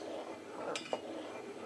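A spoon clinks softly against a pot while milk is stirred on a stove for homemade vanilla ice cream, two brief faint taps in a quiet room.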